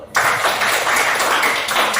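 Brief burst of applause from students in a classroom, a dense patter of close hand claps that starts suddenly and carries on steadily.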